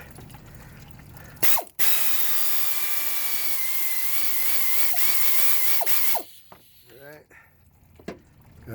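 A hose clamp comes off the water pump of a 2000 Jeep Grand Cherokee 4.0, with a steady high-pitched squeal from about 2 to 6 seconds, bracketed by sharp clicks and brief metallic scrapes near the mic.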